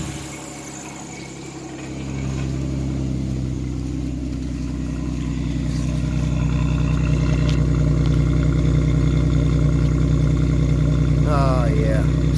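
A Chevrolet Lumina Eurosport with a 3.1 V6, front-wheel drive and nearly 145,000 miles, idles loud and close. Its steady hum rises a step as it settles into a constant drone, and a brief voice surfaces near the end.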